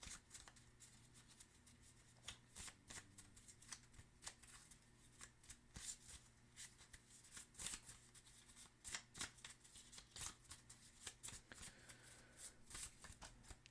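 Tarot cards being shuffled close up, a steady run of soft riffling snaps and slides with quiet rustling between, continuing through without talk.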